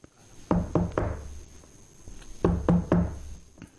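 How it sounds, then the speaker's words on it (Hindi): Knocking on a wooden board: two sharp groups of three knocks each, close and distinct, separated by a short pause. "उसने तुरंत अपने पटरे को खटखटाकर सिकंदर को अपने मन की आवाज से पुकारा।"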